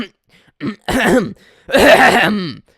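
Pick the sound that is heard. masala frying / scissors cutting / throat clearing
throat clearing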